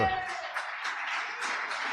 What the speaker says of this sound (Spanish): Yo no sé si quiera dar otro aplauso al Señor